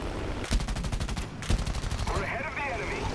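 The guns of an XA-38 Grizzly attack aircraft firing in War Thunder, loaded with a bomb during a boom-and-zoom run: two loud, rapid bursts close together over a steady engine drone.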